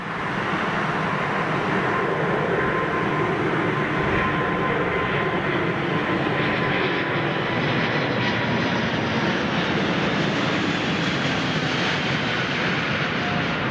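A big jet airliner passes low overhead near an airport runway, a loud continuous engine roar that holds steady throughout with no voices over it.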